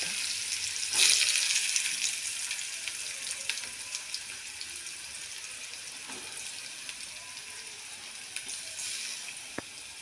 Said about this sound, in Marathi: त्याला छान असं परतून घ्यायचं आहे गोल्डन होईपर्यंत परतून घ्यायचं आहे